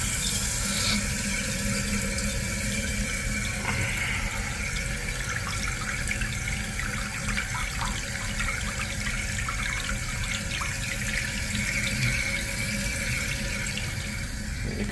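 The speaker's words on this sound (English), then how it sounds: "We're gonna turn the water on," Water runs continuously into a rebuilt Kohler toilet tank after the supply is turned back on, a steady, even hiss and rush with no pauses and no voices.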